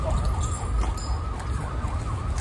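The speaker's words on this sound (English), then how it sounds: "There's more sirens there, maybe there's casualties there." Emergency vehicle sirens wail in Donetsk, steady and moderately distant, over a constant low rumble of street noise.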